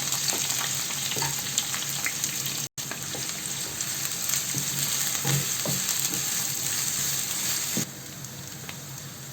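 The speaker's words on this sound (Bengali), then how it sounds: "গরম মশলাটা একটু গরম হলে দিয়ে দিচ্ছি পেঁয়াজ" Onions fry in hot oil with whole spices such as star anise, cloves, cardamom and bay leaf, giving a steady, close crackling sizzle with occasional stirring clicks and no voices.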